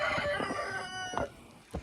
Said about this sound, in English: And that's the rooster.